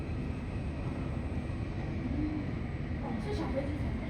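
A small airplane takes off, its engine a steady, moderately distant drone, while people talk over it throughout.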